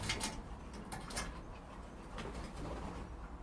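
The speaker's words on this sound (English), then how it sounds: "here we have 2 massive wood pigeons landing on my greenhouse" Two large wood pigeons on a garden greenhouse give soft, low cooing calls against steady outdoor background noise, with a few brief brighter bursts near the start.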